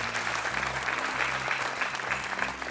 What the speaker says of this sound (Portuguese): Um aplauso também para a Carolina.